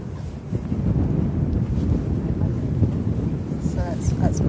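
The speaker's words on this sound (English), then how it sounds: "oopah, so windy, it's blowing my arm" Strong wind buffets the microphone at Shem Creek by the shrimp boats, a steady low roaring rumble throughout, with a voice heard faintly.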